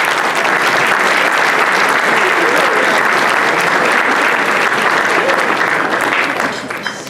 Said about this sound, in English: you're clapping because you think I'm done